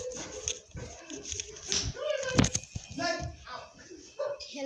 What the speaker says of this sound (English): I want to see my dogs attacking.